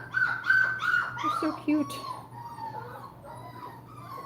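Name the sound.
Toller puppy whimpering during bath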